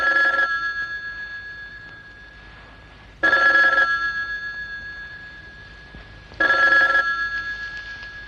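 An old-style telephone bell rings in three long bursts spaced a few seconds apart, each fading slowly, loud and close in a quiet room.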